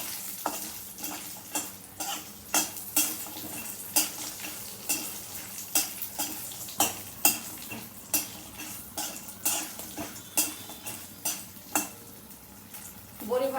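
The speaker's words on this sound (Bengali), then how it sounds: "এর মধ্যে বড়ি দিয়ে দিলাম। বড়িটা ভালো করে ভেজে নেব।" Lentil dumplings (bori) fry in hot oil for a gima shak dish, a steady sizzle broken by regular scraping stirs and metal clinks of a spatula against the pan, close and clear.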